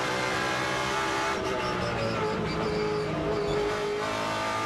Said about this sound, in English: Thwacking down the gears into the hairpin at turn 6.